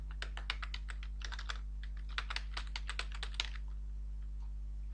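Fingers tapping on a computer keyboard while filling in an online voter ID correction form, quick irregular bursts of soft clicks, close and quiet, with no talking.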